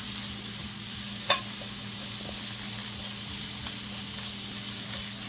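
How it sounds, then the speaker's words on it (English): Peppers sauté in oil in a pot, a steady even sizzle and hiss close by with a single faint clink partway through, no speech. "I'm just gonna let it saute for 2 minutes."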